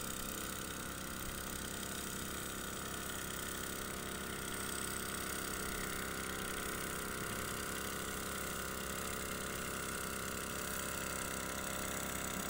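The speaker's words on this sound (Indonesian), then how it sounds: "Indra Gunawan sedang semprot bawang merah di Soloja menggunakan mesin semprot." A small engine-powered sprayer runs continuously while spraying a shallot field, giving a steady mid-pitched motor hum with constant loudness and no pauses or talk.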